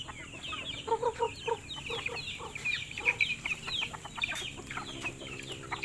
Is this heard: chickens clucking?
yes